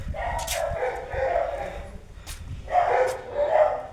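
A few dogs kept at a rural Punjabi home with buffaloes bark in short bursts, moderately close, with rough outdoor background noise and some low rumble between barks.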